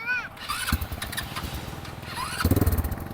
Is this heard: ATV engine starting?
yes